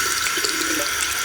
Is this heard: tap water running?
yes